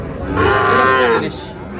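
Sahiwal heifers at a cattle market in Madaripur, Bangladesh, with one loud, close moo lasting about a second, drawn out with a tonal, harmonic-rich character, set against a quiet background murmur.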